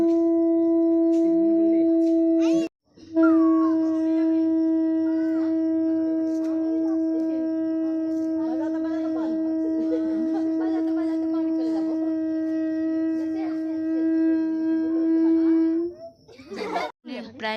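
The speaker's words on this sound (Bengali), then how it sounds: "এই যে দেখো শঙ্খ বাজানোর প্রতিযোগিতা হচ্ছে এখানে" Conch shells blown in a competition at a Saraswati Puja celebration: a long, steady, loud horn-like drone sustained for about thirteen seconds after a brief opening blast, with faint voices and children's chatter in the background.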